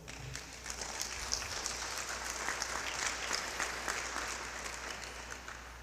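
A church congregation breaks into loud, sustained applause, dense clapping from many hands filling the room evenly for several seconds with no voices on top.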